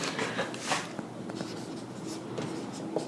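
Marker or chalk writing on a board during a Hindi lesson on ancient Indian coins, a steady scratchy squeak of strokes with short pauses, close and fairly quiet with no talking.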